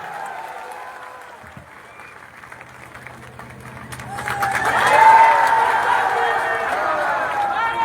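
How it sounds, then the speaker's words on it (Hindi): A crowd at an outdoor political election rally on a field bursts into applause, starting thin and swelling into steady, loud clapping with some cheering that holds to the end. "तो जोरदार ताली से अपना आशीर्वाद दीजिए"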